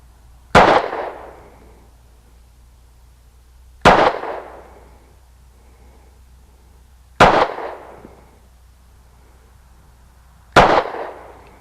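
A Ruger LC9 pistol fires at a range, four sharp, loud reports spaced a few seconds apart, each trailing off in a short echo with quiet between.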